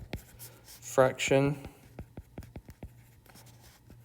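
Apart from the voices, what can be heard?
writing on a board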